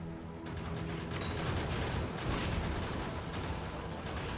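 Grenade blasts from a Factorio-style game on a Deathworld map with Rampant enemies, heard as a dense, continuous rumble of booming explosions and gunfire that stays loud and steady throughout, with no clear gaps between detonations.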